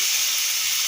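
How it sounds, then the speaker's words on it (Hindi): Fish frying lightly in a spoonful of ghee gives off a loud, close, uniform hiss and sizzle with no breaks. "मछली को हमने थोड़ा सा हल्का सा फ्राई करना है।"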